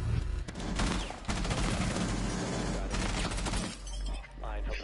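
Heavy gunfire from a PS4 shooter, a Counter-Strike-style bomb match in an esports cup, with dense overlapping bursts and rapid shots filling the span, loud and close, with brief lulls and voices talking under the shooting.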